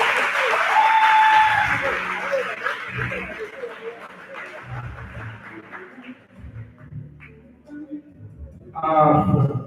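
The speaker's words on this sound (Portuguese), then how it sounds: "Uma salva de palmas para a direção provincial." Audience applause and laughter at a finalists' graduation ball in Chiúre, Pemba, with a speaker's voice over the clapping, which fades midway before a loud burst of sound near the end.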